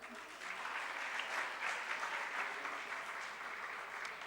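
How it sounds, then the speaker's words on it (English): Steady audience applause at a G20 University Connect event following a student music and dance performance, sustained dense clapping throughout at moderate distance with no pauses. "Shouldn't we have another round of applause?"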